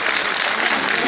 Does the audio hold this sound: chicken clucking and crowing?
no